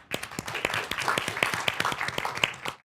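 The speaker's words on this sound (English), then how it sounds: "We can give a round of applause." An audience at a civic tech talk breaks into a short burst of applause, with dense, crisp claps close by that cut off abruptly.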